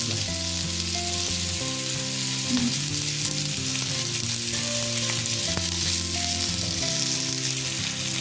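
Mackerel and pomfret fish fry in a pan, a steady, dense sizzle that stays close and loud throughout, with faint tonal music running underneath and no talk.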